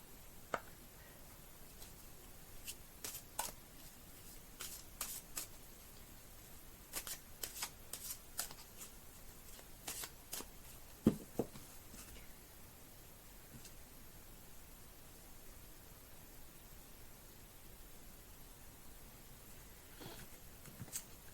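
An Imbolc oracle card deck is shuffled in quiet, soft riffling papery bursts, scattered through the first half and then trailing off into near silence.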